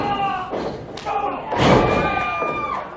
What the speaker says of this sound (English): Thunderous clothesline. You can hear the thud.